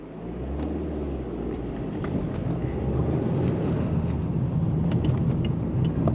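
Steady broadband road roar inside a moving MG6 Magnette TSE turbo with hard, high-mileage tyres, a continuous low rumble with a wind-like hiss that holds even for the whole stretch, with no one talking.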